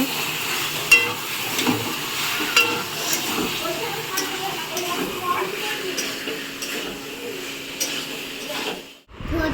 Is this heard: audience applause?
no